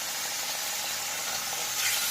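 Pieces of rohu fish fry in hot oil, giving a steady broad sizzling hiss with no break and a slight swell near the end.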